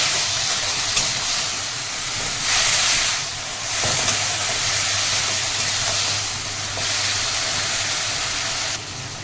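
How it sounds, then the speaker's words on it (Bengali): Masala stirred in a hot pan while cooking a banana flower (mocha) dish with no onion or garlic, a continuous loud hissing sizzle with swelling bursts as it is moved, close up and without talk. "মশলাটা যেন পুড়ে না যায়, এভাবে ভালো করে নাড়তে হবে।"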